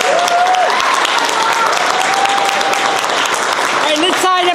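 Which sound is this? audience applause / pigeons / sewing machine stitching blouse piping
audience applause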